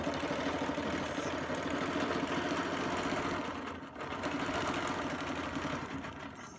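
A sewing machine runs steadily while stitching an all-over Baptist fan quilting design, a fast continuous mechanical whir with a brief dip in the middle.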